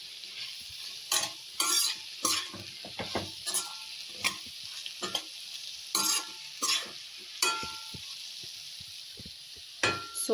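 A spring onion mixture with salt stirred in a pan, a soft sizzle broken by a series of quick, irregular spatula scrapes and taps, close and clear.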